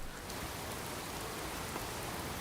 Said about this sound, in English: It's quite rainy.